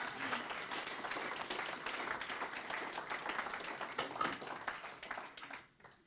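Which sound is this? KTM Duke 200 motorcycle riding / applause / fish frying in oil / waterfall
applause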